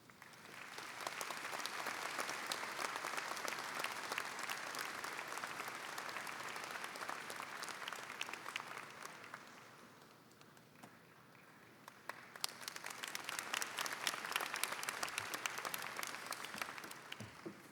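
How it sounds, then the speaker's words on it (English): Sustained audience applause at a college commencement, following the award of an honorary Doctor of Public Service degree; dense steady clapping dips briefly midway, then swells again to full strength before fading at the end. "those were good applause"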